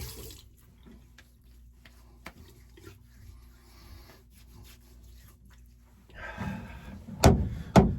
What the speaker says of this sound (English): Go ahead, wet the face a little bit.